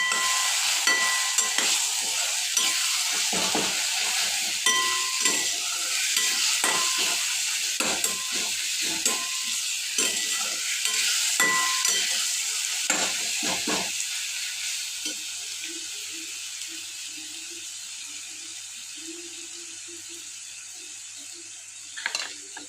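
Onions with a green chili, ginger and garlic paste sizzle steadily in a pan. A spoon stirs and scrapes repeatedly for the first half, then the frying settles into a quieter hiss.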